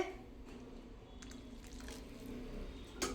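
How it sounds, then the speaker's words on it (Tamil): Boiled water poured into flour to mix a roti dough, giving a soft, steady wet trickle and splash close by with no talking. "இப்போ நம்ம கொதிக்க வச்ச தண்ணி சேர்த்துக்கணுங்க"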